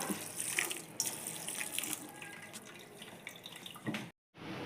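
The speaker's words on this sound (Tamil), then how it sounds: "பச்சை தண்ணி ஊற்றலாம்" Cold water runs and splashes continuously over boiled kodo millet noodles, a steady pour that stops abruptly just before the end.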